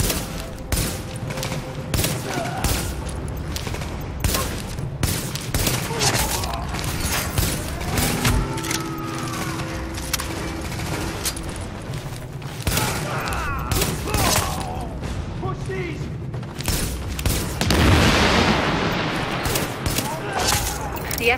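Bursts of automatic gunfire and distant thumps from the video game The Division, a hard-difficulty mission at Madison Field Hospital, sounding dense and continuous, with game voice lines and radio chatter mixed over the shooting.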